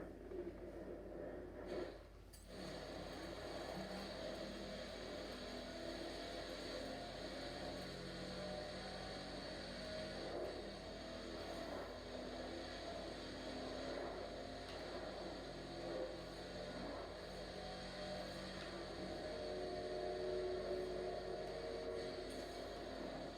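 Bugatti Chiron hypercar engine in Forza Horizon 4, a steady loud high-speed drone with a dense layered roar that holds for the whole stretch, swelling slightly near the end, with no talk over it.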